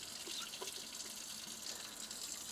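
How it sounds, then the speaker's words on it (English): Tap water runs steadily into a protein shaker bottle that holds a metal shaker ball, a constant close hiss of flowing water at low level with no talking. "take the metal shaker ball and put it inside the cup. Fill it with water."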